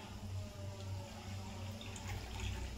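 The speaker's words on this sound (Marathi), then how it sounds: "आपण अर्धी वाटी पाणी घालणार आहोत।" Half a cup of water pours into a pan of fried chillies and spices, a steady soft splashing wash with a low hum beneath, continuous and moderately quiet.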